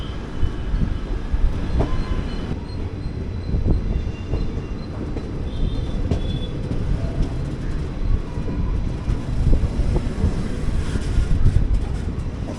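The 20624 Malgudi Express running between Bengaluru and Mysuru, heard from inside an AC chair car: a steady loud rumble with rattles and faint clickety-clack over the rails, continuous throughout with no voices.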